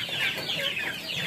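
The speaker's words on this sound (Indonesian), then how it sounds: "Sekarang kita memberikan makan untuk ayam-ayam kita." Chickens in a semi-free-range coop cluck busily at feeding time, several birds overlapping in a close, continuous chatter.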